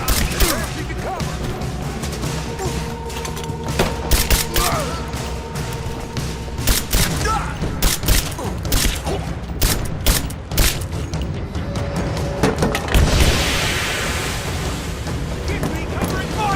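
Gunfire and explosions in the combat video game Rise of the Tomb Raider, a dense, loud, continuous barrage of shots and booms under shouted character dialogue.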